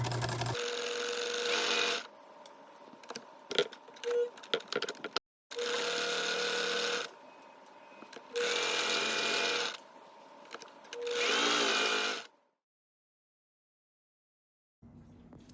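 Sewing machine stitching pieces of a cloth face mask, running in four or five loud bursts of a few seconds each, separated by short pauses, ending in silence.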